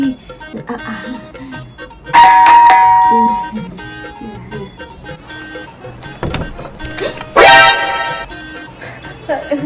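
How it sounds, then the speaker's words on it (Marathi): A doorbell chimes twice, a bright ringing tone followed later by another burst, with background voices and a dog-like bark in between. "घंटी कुठं ह्याची वाजवायची"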